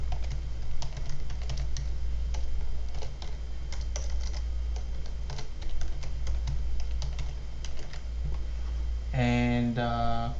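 Steady clicking of computer keys being typed in a quiet room over a constant low hum, with a brief tonal beep near the end.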